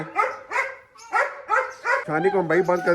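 A dog barks repeatedly at close range in rhythmic bursts, turning into whimpering yips near the end, with people talking over it.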